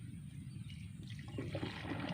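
Water poured over soil to soak it while preparing a rice field for planting, a steady close trickle that swells into a fuller splashing flow toward the end.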